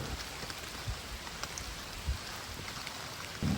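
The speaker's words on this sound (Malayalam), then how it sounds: "കണ്ടിന്യൂസ് ആയിട്ട് മഴ പെയ്യുന്നത് കൊണ്ട് തന്നെ വഴിയിൽ നീരൊഴുക്കുണ്ട്" Continuous rain falls on a dim, misty forest trail on the Agasthyarkoodam trek, a steady close hiss with a few louder drops and soft thuds standing out.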